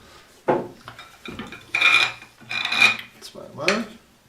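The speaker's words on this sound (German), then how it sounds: "und jetzt wird eine dritte Zwinge hier angebracht" A metal clamp is fitted onto a wooden miter jig, producing several separate scraping, clanking handling sounds in short bursts, close and fairly loud, with no talking.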